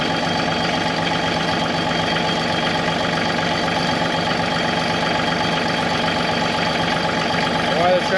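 Tractor engine idling while it warms up on an Alaskan homestead, a steady, even diesel rumble running throughout at close range, with a person speaking briefly over it.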